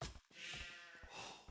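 Sheep bleating in the Age of Empires strategy game, a short burst of a few bleats heard close and clear over the steady game background.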